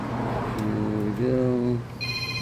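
A phone gets an incoming call in a workshop during a Craftsman lawnmower recoil rope repair, giving a short ringtone of stepped electronic tones, moderately loud over a background hum.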